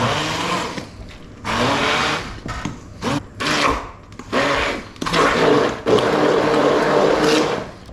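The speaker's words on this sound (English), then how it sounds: "a proper blender would do this a lot finer. Hand blender is fine." A hand blender mashes soft food in bursts, whirring loudly for a second or so, then pausing, then running again in longer pulses with rattling and squelching.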